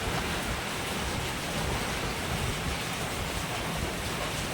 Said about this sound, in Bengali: কিন্তু এখন মানে তুমুল বৃষ্টি হচ্ছে। দেখো হাওয়াও দিচ্ছে খুব